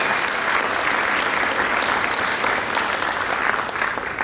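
Crowd at an award ceremony applauding volunteers, a dense, loud, continuous wash of many hands clapping that holds evenly throughout the short stretch.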